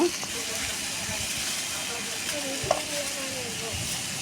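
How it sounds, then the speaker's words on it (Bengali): Potato pieces fry with salt and turmeric in a kadai, a steady close sizzle and hiss with occasional stirring scrapes, no voice over it. "লবণ আর হলুদ দিয়ে সুন্দর করে এটা আমি ভেজে নেব"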